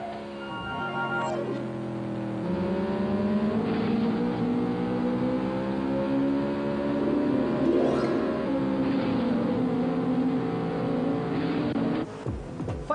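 Racing cars in an arcade-style 8-player PC racing video game: steady engine whine and revving with shifting pitch over about thirteen seconds, loud and continuous, with no talk.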